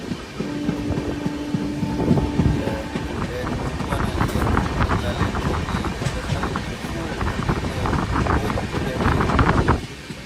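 A train rolls along gathering speed, a steady rumbling clatter with wind buffeting the microphone throughout, a brief tonal hum near the start, and people talking over it.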